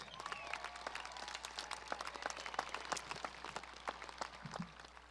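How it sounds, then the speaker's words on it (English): Applause from a graduation audience at Will C. Wood's 2018 ceremony, a sustained field of many hands clapping at moderate distance, steady for the full stretch. "Please give yourselves a round of applause."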